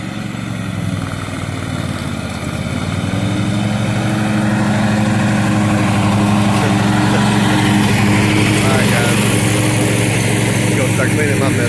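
A lawn mower's small engine runs steadily throughout with a droning mechanical hum, building slightly after the first couple of seconds, close and fairly loud.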